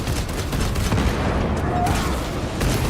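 A frag grenade goes off amid dense gunfire in the video game Space Marine 2, producing a loud, continuous battle roar of blasts and shots with no clear break.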